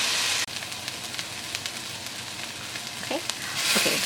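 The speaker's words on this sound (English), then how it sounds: "heat oil, add the onions, cook, stirring until they start to color" Onions frying in hot oil while being stirred, a steady hiss with scattered scrapes, a brief faint voice, and the sizzle swelling louder at the end.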